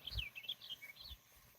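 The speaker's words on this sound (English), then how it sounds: "you can hear the birds chirping" Small birds chirp in a quick, scattered series of high tweets near a lake on a warm morning, fairly faint over soft outdoor background with a couple of low thumps.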